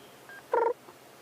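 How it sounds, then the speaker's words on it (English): A scops owl gives a single short, hollow tonal call in the evening bush near a dam, fairly close and clear against quiet night background, with faint softer notes around it. "So one of our smallest little owl species, a scops owl."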